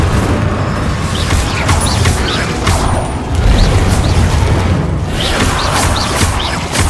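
Explosive Confringo spell blasts in the wizarding game Hogwarts Legacy come as repeated rumbling booms and crashes amid magical combat, loud and dense, with sharp bursts recurring every second or so.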